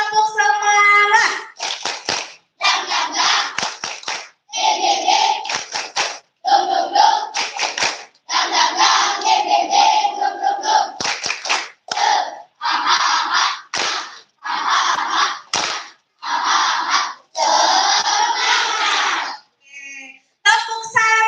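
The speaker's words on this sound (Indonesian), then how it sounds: "kasih tepuk semangat dulu ya. Tepuk semangat." A crowd of children at a school morning event in Indonesia doing a rhythmic spirit clap, with bursts of clapping in a patterned beat and loud group chanting between the claps.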